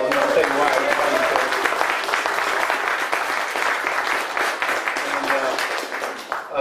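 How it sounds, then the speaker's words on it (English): Audience applause for Doka Turner at a Nashville Musicians Association session-player event, a dense steady wash of clapping that runs the full length, slightly thinning toward the end. "Give him a round of applause"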